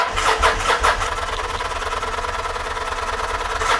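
A Kawasaki Vulcan 750 motorcycle engine cranks with a rapid rhythmic churning from its starter, then catches into a rough, uneven running sound, loud and close with no talk.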